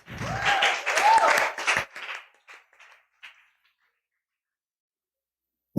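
Audience applause at a talk event, a short burst of clapping mixed with voices that fades out after about two seconds, followed by near silence.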